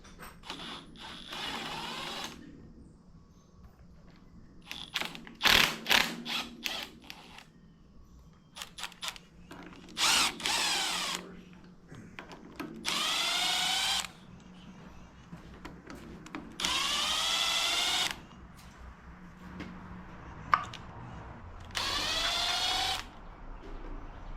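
A power tool, likely an electric drill or impact driver, removes parts from a Honda D-series cylinder head in repeated short bursts of whirring that rise and stop, close by, separated by quiet pauses and small clinks.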